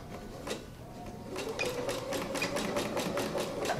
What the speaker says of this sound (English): So we're gonna start sewing our seam from the hem of one of the legs.